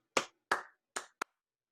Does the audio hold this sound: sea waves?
no